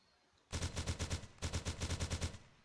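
Automatic AK rifle fire from a Unity survival game, two rapid bursts of evenly spaced shots separated by a short pause, loud and close with no talking.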